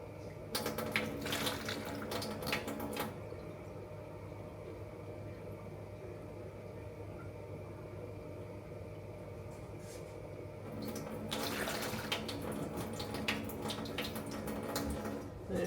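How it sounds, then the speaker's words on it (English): Tap water runs into a pot of tomatoes being canned so they do not burn, a steady faint rush with louder splashing bursts at the start and again near the end. "I'm going to put some water in this just so it doesn't burn."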